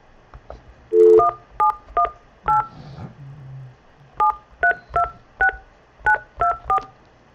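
Telephone keypad dialing tones while joining a conference call: a series of short, clear beeps in quick bursts with brief pauses between groups, close and distinct over a quiet background.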